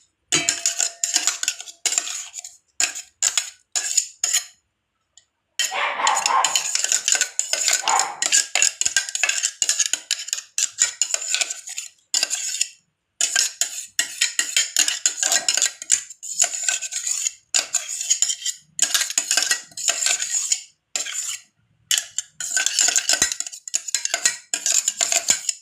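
A metal spoon scrapes and clinks against a cooking pot in repeated sharp strokes as ground green chilli, ginger, curry leaf and coconut paste are stirred into a fish meenpera dish, close up, with no speech.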